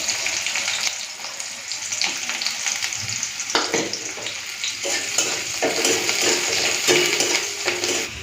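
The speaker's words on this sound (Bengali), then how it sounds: "এখন দিয়ে দিচ্ছি পেঁয়াজ কুচি" Chopped onion goes into hot oil with already-fried chilli and sizzles steadily, with the scrape of a stirring utensil and light clinks against the pan.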